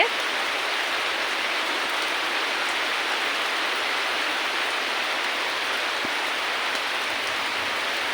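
Continuous rain hisses evenly for several seconds, a dense, steady wash of falling water with no voices.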